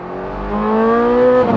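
A Ferrari sports car engine revs up, its pitch climbing smoothly over about a second before cutting off, loud and close.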